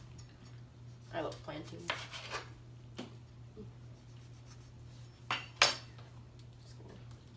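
A knife cuts the ends off plantains on a kitchen board, with several short, crisp chopping strokes, one loud near the end, while someone speaks briefly.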